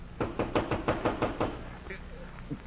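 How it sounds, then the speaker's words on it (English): A door knock sound effect from a 1950 radio drama: a quick series of about eight firm, close raps in steady rhythm, followed by a faint creak and a softer thump. "at night, a knock came that was to bring them out and keep them out"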